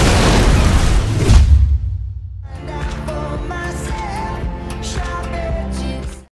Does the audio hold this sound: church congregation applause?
no